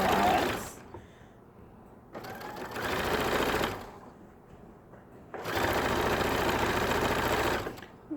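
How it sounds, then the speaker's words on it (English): A sewing machine stitches a hem with horsehair braid at a tiny 1/8 inch seam allowance, running in three bursts of steady whirring separated by short quiet pauses. "I'm stitching with a very small 1/8 inch seam allowance."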